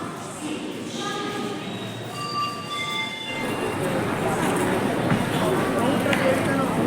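A train at a Bangalore railway station, with high metallic wheel squeals in a sequence of short tones followed by a rising rumble and hiss of rolling carriages, with voices of people nearby.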